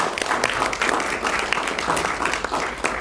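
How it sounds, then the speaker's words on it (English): A quick round of clapping from a small group at a Solid Waste Authority board meeting, close and fairly loud with uneven individual claps for about three seconds. "I'd just like to give you like a quick applause"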